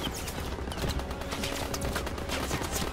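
Continuous, busy World War II battle gunfire from Call of Duty WWII, with overlapping rifle and machine gun shots crackling steadily at moderate distance across a noisy battlefield bed.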